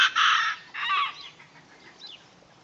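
Jersey Giant chickens let out a couple of loud squawking clucks up close, followed by fainter, softer clucks trailing off, with no talk.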